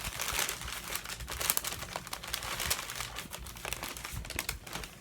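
Paper wrapping on a package of collectible goodies crinkles and rustles continuously as it is unwrapped, a dense, close, steady crackling with no talk.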